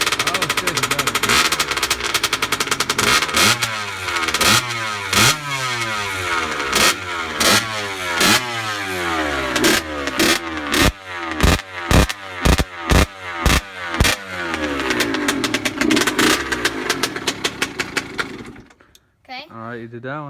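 A cold 2-stroke dirt bike engine sputters, catches and revs hard in sharp repeated bursts that rise and fall, crackling loud and close, before cutting out near the end.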